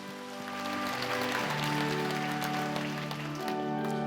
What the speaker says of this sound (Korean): 이 시간 우리 기도에 응답하실 하나님 앞에 영광의 박수 올려드리겠습니다.